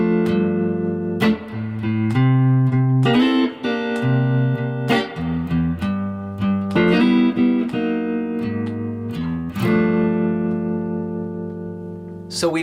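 Electric guitar playing the first four bars of a blues with a slightly driven tone, chordal stabs mixed with bluesy single-note fills, close and solo without speech.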